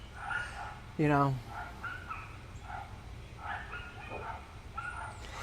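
One loud nearby dog bark rings out briefly amid soft chatter and other faint animal and background sounds; pugs and a small shepherd are among the dogs present.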